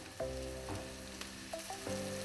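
Rice grains frying in a pan for vegan mushroom risotto, a steady close sizzle with a few soft clinks and stirring scrapes over about two seconds, no voices.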